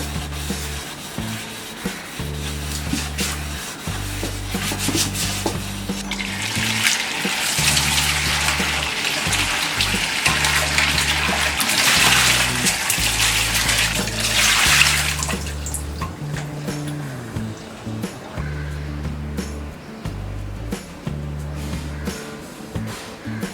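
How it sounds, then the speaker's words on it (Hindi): Kitchen item being washed with liquid dish wash under running water: steady splashing and scrubbing, loudest in the middle stretch, with rhythmic rubbing throughout. "अब हम ये लिक्विड डिश वॉश के साथ भी इसे धो लेंगे।"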